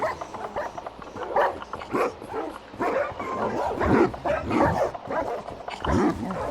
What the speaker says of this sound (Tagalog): let's unleash the dogs